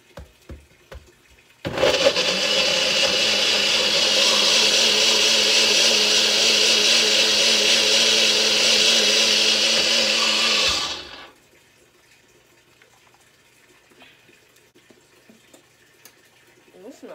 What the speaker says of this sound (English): Now I'm about to put it in the blender.